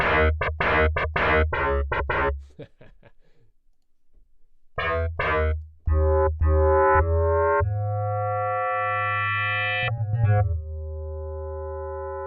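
Buzzy, distorted electronic blips stutter rapidly, pause, then return with a long rising synth sweep and chiptune tones, like an old game console.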